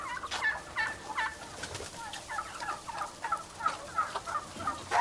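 Turkeys gobbling on a poultry farm near Goslar where chickens, ducks and geese are also raised, repeated rapid gobbles close by over a low farmyard background.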